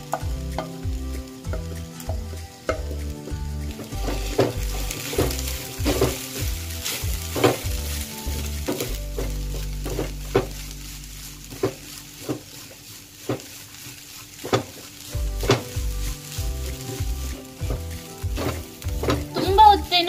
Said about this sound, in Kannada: ತೆಂಗಿನ ತುರಿನೆಲ್ಲ ಆ್ಯಡ್ ಮಾಡಿಕೊಂಡು ಅದನ್ನ ಕೂಡ ಚೆನ್ನಾಗಿ ಫ್ರೈ ಮಾಡ್ಕೊಳ್ಳೋಣ